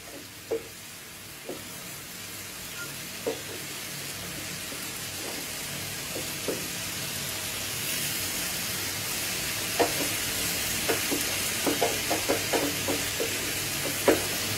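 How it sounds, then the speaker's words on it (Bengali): Food frying and being stirred in a pan, a steady low sizzle with scattered soft scraping clicks of a spatula that grow more frequent toward the end, with no voices. "এরকম নাড়াচাড়া করে করতে থাকবো 5-10 মিনিট, কারণ এটা জলটাও মজে যাবে আর এটা একটুখানি ভাজা ভাজা মতো হয়ে যাবে আর কি।"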